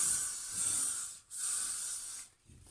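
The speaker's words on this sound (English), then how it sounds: "Just going with the spray a little bit." Aerosol hair spray hisses onto hair while styling a high puff bun, two sustained close bursts with a brief pause between them.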